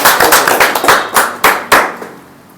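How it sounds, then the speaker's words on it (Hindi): Applause from a seminar audience in Sunder Nagar, Himachal Pradesh: a burst of sharp, close handclaps in an uneven rhythm, thinning to a few final claps before fading out. "एक बार जोरदार तालियां सर के लिए।"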